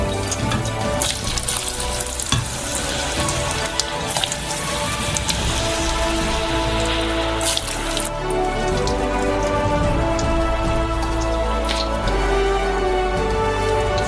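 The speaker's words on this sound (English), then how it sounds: "Preheat the fryer to 170 degrees, and throw in the potatoes." Potatoes dropped into a fryer of oil preheated to 170 degrees at a Korean street food stall, giving a loud, dense, steady crackling sizzle that runs continuously and close up, with no one speaking.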